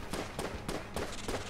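Gunfire in the video game Enter the Gungeon: a rapid series of four or five crisp popping shots at an even rhythm, moderately loud over a steady game background, with no talk.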